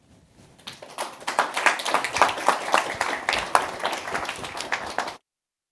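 An audience claps after a talk on edge computing, swelling from a few claps into steady, dense applause that holds for several seconds, then cuts off abruptly.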